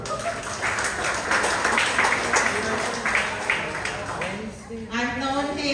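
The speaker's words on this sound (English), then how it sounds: "Let's give him a big applause." Guests applaud at a 65th birthday party, scattered hand-clapping at moderate level under and between voices as people talk over it.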